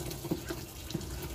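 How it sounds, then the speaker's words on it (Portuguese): Boiling water, about a litre, being poured into a batch of homemade natural lauryl soap made from medicinal bitter melon bars; a steady, soft liquid pour with a few faint splashy accents, fairly quiet and close, no talking. "vamos pôr mais um litro de água fervendo"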